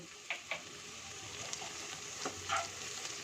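Chopped tomato and salt sizzling in a pan over medium gas flame with ginger and garlic, a soft steady frying hiss with faint crackles and occasional stirring clicks.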